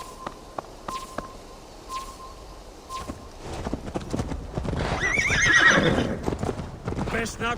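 A horse in Assassin's Creed Valhalla clip-clops at a walk, its hooves thudding in a regular rhythm, then whinnies loudly partway through. Birdsong chirps in the background early on, and a voice speaks over the hoofbeats.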